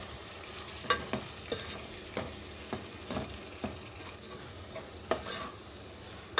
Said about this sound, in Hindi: ये डाल देंगे और इसको बहुत अच्छी तरह से मिक्स करके भून लेंगे।